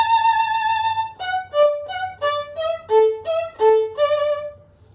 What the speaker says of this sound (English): playing the eighth notes with a martelé bow stroke, which has a lot of energy